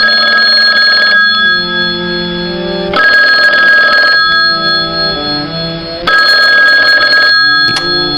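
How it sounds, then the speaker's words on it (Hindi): A telephone rings loudly in three separate bursts of bright, trilling tone, with short quiet gaps between them and no voices. "अचानक फोन की घंटी बजी।"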